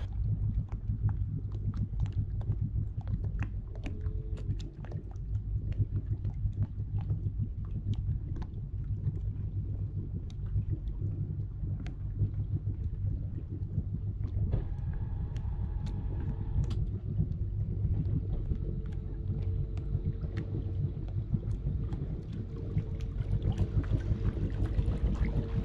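An inboard wakeboat maneuvers into a dock, a steady low engine rumble with water and wind noise, close and continuous, with a brief tonal hum partway through.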